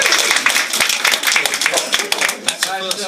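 An audience at a family safety week launch event applauding and cheering, with dense clapping and scattered voices throughout, loud and close.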